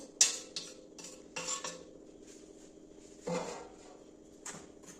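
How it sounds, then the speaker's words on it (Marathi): Dry besan flour is roasted in a pan without ghee, with quiet, sparse metallic clinks and scrapes of a spoon against the pan at irregular intervals, close and soft, with no voices. "आता आपण हे बेसन पीठ छान कोरडत भाजून घेऊ"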